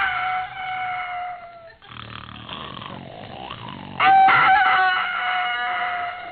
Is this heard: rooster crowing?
yes